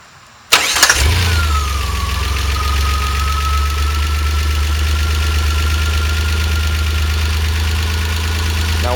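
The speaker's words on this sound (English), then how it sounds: "we'll start the engine" A car engine cranks and catches, then settles into a steady, loud idle that runs alone for several seconds during an ignition coil voltage test.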